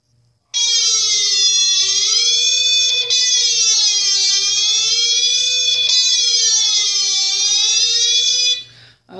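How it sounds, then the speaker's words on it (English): A loud, steady warning siren wails alone for about eight seconds, a rising and falling electronic tone with brief dips, reported in Charleston, South Carolina. "a warning siren to let people know something's about to happen"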